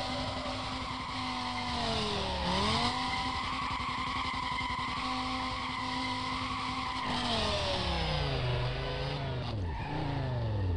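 A Dodge Viper in Need for Speed: Most Wanted drives hard, its engine note loud and constant, sweeping up and down through shifts, with tire squeal and skidding in the turns.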